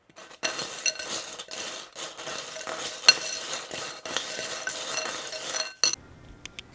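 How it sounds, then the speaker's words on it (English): Ice and salt are stirred in a big bowl, with a continuous gritty scraping and clinking of cubes in irregular strokes that stops abruptly near the end. "I'm going to mix this first so that then everything can get incorporated"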